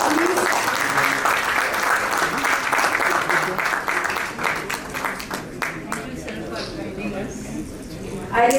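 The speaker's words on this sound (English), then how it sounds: "Can we have a good round of applause" An audience at a conference in Delhi breaks into a sustained round of applause, loud and close, with scattered individual claps standing out as it thins toward the end.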